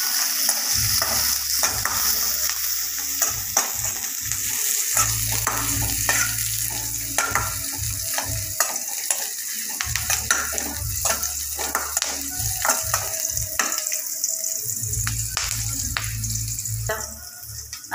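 Onion, garlic and ginger frying in a pan for a Goan clam curry, a steady sizzle under repeated stirring scrapes and knocks, fairly loud and close, with no talking.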